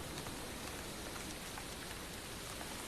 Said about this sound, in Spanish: Llueve a cántaros durante toda la noche.